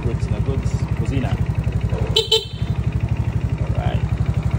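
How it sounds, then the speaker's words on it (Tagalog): A motorcycle idles close by with a steady, pulsing engine throb, and a single short horn honk cuts through midway. A voice speaks briefly over the engine. "Busina."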